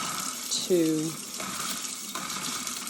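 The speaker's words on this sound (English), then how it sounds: "I'm using warm water, not really hot, but warm water, and that helps to not only rinse off the etching cream" Warm tap water runs steadily to rinse etching cream off an etched glass decanter, a continuous close splashing gush throughout, with a brief voice over it.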